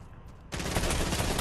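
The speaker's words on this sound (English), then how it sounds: "Oh, he's shooting at me." Gunfire in the Fortnite video game erupts abruptly after a quiet moment, then continues as a loud, dense, sustained burst of rapid shots.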